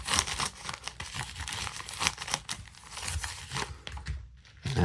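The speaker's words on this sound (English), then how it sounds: "scissors." Scissors cut through packaging material for shipping loose game discs, giving close crinkling, snipping and tearing noises in irregular bursts, fairly quiet and with no one talking.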